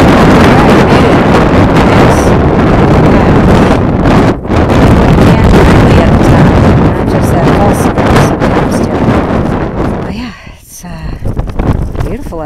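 Loud, strong wind buffeting the microphone, a constant roaring rumble that briefly dips before surging again.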